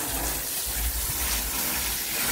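Water gushing and splashing steadily over an auto rickshaw during a wash, a continuous close spray with no talk.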